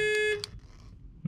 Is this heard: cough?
no